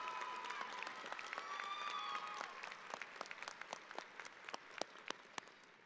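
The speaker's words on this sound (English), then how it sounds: "One more little round or big round of applause for her." Applause at a university spring commencement ceremony, a dense wash of many hands clapping that thins toward the end into scattered individual claps, with whistles heard early on.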